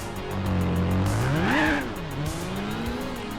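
A Nissan Skyline race car in the Gran Turismo 4 video game, engine revving and shifting through gears at high speed, a loud rising and falling howl with tire noise underneath, close and continuous.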